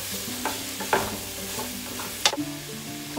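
Frying peppers and zucchini are stirred in a pan, a utensil scraping and clacking a few times over a steady background sizzle, with no voices.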